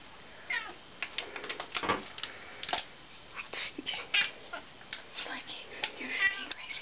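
A cat meows repeatedly in short, varied calls while people talk nearby indoors.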